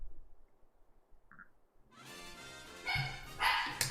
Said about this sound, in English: the dog's probably barking at Amanda